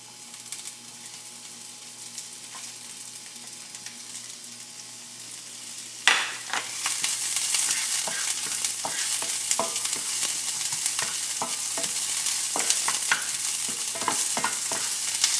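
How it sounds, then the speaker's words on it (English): Onion hits a hot pan while making dirty rice, a sudden burst of sizzling after a quiet start, then continuous frying hiss with frequent scraping stirs and clacks close by, no talking. "to fry the onion, make the onion color and the fragrance coming out more"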